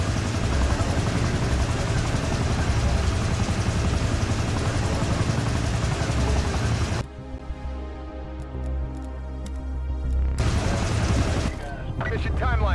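Chopper gunner helicopter in Black Ops Cold War, a loud continuous rotor roar mixed with bursts of heavy gunfire, dropping away briefly before the noise returns, with radio voices talking.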